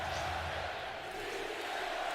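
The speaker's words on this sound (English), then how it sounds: "And finally, this crowd here, something to cheer about." Stadium crowd at a San Francisco 49ers home game against the Rams on Monday Night Football, a steady broad roar of cheering voices filling the whole moment, distant and continuous without distinct peaks.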